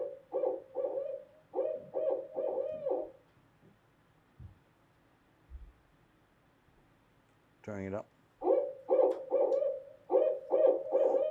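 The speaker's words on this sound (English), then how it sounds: "we immediately hear a sound coming from across the lake. The call of the barred owl" A barred owl hoots across a lake at night in rhythmic runs of deep, resonant calls. One bout fades to quiet, a voice speaks briefly, and a fresh series of hoots returns.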